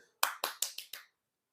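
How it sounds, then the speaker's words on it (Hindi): Five sharp, separate claps ring out in quick succession during an online physics class, each one bright and crisp with a short decay, followed by silence. "अपने लिए एक बार ताली और बजा लो जल्दी जल्दी से"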